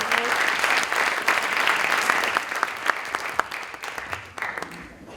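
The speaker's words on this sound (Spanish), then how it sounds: "Un fuerte aplauso." Seminar attendees give a dense round of hand clapping after a talk, loud and sustained at first, then thinning into scattered individual claps before it fades.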